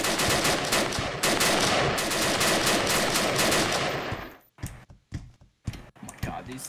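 AK rifles in a video game fire in sustained rapid automatic bursts, loud and dense, breaking into shorter scattered shots toward the end.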